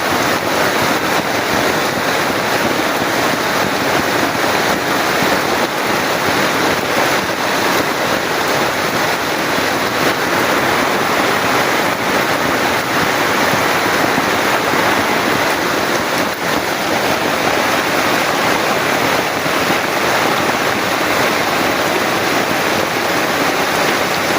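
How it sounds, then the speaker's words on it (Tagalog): A powerful, constant roar of rushing floodwater, broad and loud like a torrent, with heavy rain mixed in, unbroken throughout and no voices. "Sobrang lakas ang ano ng tubig, bulog ng tubig"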